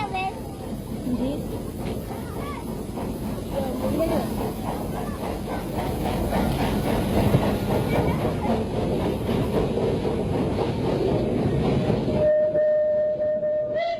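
A Surabaya steam tram runs along its rails with a dense, steady rumble and rattling clatter that fills the whole stretch, staying loud and close before the noise cuts off near the end, leaving a thin steady tone.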